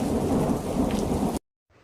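Heavy rain pours steadily over a forest with a dense, loud roar that cuts off abruptly into near silence, followed by a faint return of rain.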